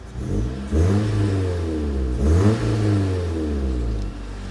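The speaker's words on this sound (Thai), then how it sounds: "ดูรอบเครื่องครับ" A used 2011 car with a Duo engine revs up twice in close succession, the engine note climbing and settling back each time, heard close and clear with no talking.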